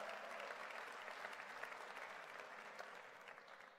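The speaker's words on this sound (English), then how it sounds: "Let's give it a round of applause here." Steady, even applause from an audience at a collegiate athletics hall of fame induction ceremony, a broad wash of clapping that holds for several seconds, fairly faint and slowly easing.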